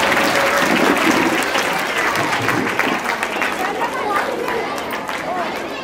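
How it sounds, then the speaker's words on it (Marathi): An audience at a senior citizens' gathering claps loudly and continuously, a dense roar of applause with some crowd chatter mixed in. "आपण जोरदार टाळ्या वाजवायच्या आहेत"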